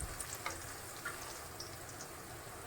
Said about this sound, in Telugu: ఇవన్నీ మంచిగా పచ్చివాసన పోయేంత వరకు ఫ్రై అయిపోవాలి.